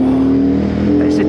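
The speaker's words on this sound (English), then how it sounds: "Oh, that engine." A Benda motorcycle engine hums and revs steadily on a bumpy road, a sustained droning tone with a voice speaking over it.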